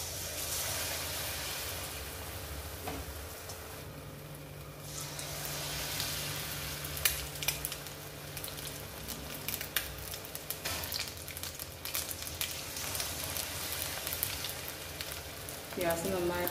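Quartered boiled eggs dipped in batter for bajji hiss and sizzle steadily in hot oil, a loud continuous frying crackle close by with occasional pops and faint clinks.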